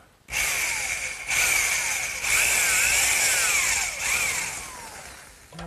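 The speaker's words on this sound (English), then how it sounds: "now to drill the hole, I'm just using a 15 16 inch speed bit" A power drill with a 15/16-inch spade bit whining steadily as it bores a hole through wood for a garden swing, in several sustained bursts with brief dips in pitch between them, close and loud.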